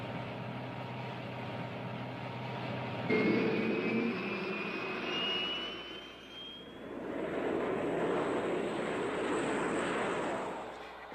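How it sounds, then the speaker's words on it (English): A prop-engine Cessna scout plane flies overhead on a steady, continuous engine drone that swells and fades slightly as it passes, heard alone without talk. "A prop-engine Cessna acts as scout for the jets."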